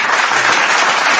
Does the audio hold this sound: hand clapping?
yes